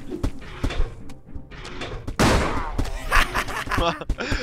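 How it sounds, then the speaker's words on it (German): Several sharp gunshots crack in quick succession amid action in a German Let's Play of the game Blood Party, with a loud blast midway and a flurry of clattering hits afterward. "Schöner Schuss, Dex."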